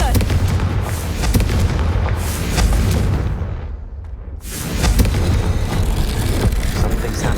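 A spell cast in a Harry Potter video game erupts in deep, rumbling explosive blasts, heavy booms rolling on with a brief quieter lull midway before the roar returns.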